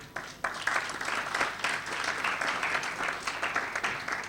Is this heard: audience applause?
yes